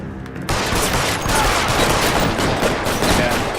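Loud bursts of rapid gunfire fill a shootout in the video game L.A. Noire, kicking in sharply after half a second and continuing densely to the end.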